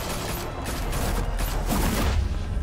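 Continuous gunfire fills a Batman video game scene, a dense rattling barrage of shots with booms and mechanical noise running without a break under game sound.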